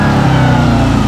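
A Hellcat engine's supercharger whines loud and close, a brief steady tonal drone layered over the engine's running rumble.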